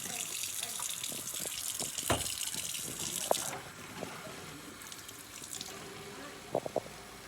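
Running water and soap wash out a bird house, a soft continuous faucet flow with faint sloshing and a few small knocks and splashes, quiet and close.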